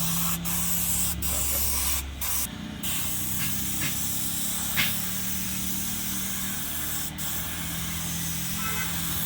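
Teak wood for a box bed is being sanded, giving a steady abrasive hiss that runs throughout at a moderate level with a low motor-like hum underneath and a few brief sharper scrapes.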